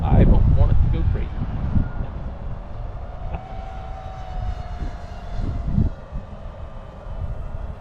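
An iFlight Nazgul Evoque F6D drone flies back overhead with a steady buzzing whine, moderately near, while a person talks at the start and low rumbling fills the background.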